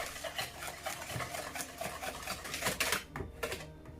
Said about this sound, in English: give this a little mix